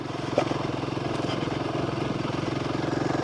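Royal Enfield Himalayan 450 motorcycle running steadily in low first gear, a continuous close engine drone with a rapid pulsing beat throughout and no talking.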